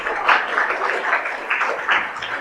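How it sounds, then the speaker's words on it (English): Audience applause for a gymnastics team at a summer camp closing ceremony, a steady wash of many hands clapping with a few louder swells, no talk over it. "So let us give the big applause to that team."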